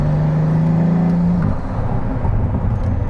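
Pagani Huayra Roadster BC engine heard from inside as throttle is applied, a steady droning tone that shifts into a deeper, rougher rumble partway through, loud and close.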